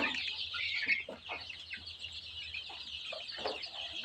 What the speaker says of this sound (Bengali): প্রথমবারের মতো 200 দেশি মুরগির বাচ্চা তুলেছি।